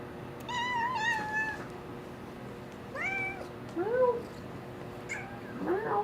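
A house cat named Salem meows indoors near a table, several separate meows of rising and falling pitch spread over a few seconds, close and fairly clear above quiet room noise.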